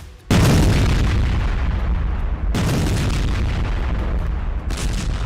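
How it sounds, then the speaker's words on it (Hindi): Two heavy, rumbling bunker buster bomb blasts, the second arriving mid-clip, each followed by a long, roaring, distorted boom that fills the whole recording. "उन्होंने बंकर बस्टर के धमाके किए"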